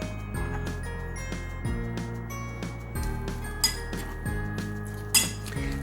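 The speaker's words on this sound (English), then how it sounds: "with the apples, we're going to mix the brown sugar, and we're going to mix" Apples being tossed with brown sugar and cinnamon in a bowl for a biscuit filling, heard as repeated clinking and scraping of a utensil against the bowl in a steady stirring rhythm, close and moderately loud.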